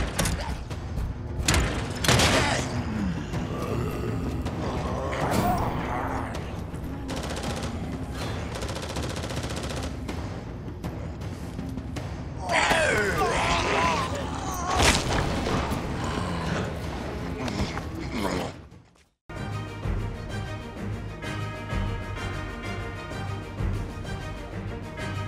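Zombies breaching a room in Resident Evil 3 Remake: loud banging, creaking and mechanical crashing with bursts of gunfire, continuous and chaotic, before a brief cut to silence and then a low droning music bed.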